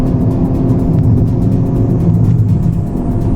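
Tata Punch Creative 2023 driving at high speed around turns, a steady loud engine drone and road rumble sustained throughout without letup.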